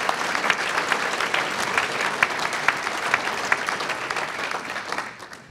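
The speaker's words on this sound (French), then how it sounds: "je voudrais qu'on l'applaudisse pour sa belle élection" A congress audience at a 2019 Mouvement Radical gathering breaks into sustained, even applause, many hands clapping together at a moderate distance before the sound tapers off at the end.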